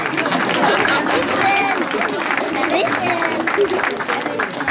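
A crowd applauds a girl being thanked, dense continuous clapping mixed with chatter and babble from many people nearby, loud and sustained throughout.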